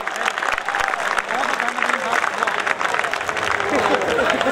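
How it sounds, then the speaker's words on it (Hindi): Students at a college farewell party clap together in a dense, continuous wave of applause, with voices blending in beneath the clapping. "अगर आप हाथों को उठाकर तालियां बजा देंगे"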